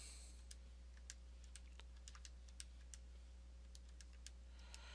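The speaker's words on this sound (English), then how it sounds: "So type that in a calculator." Numbers being keyed into a calculator, faint, sparse button taps spaced irregularly over a steady low hum, with no talking.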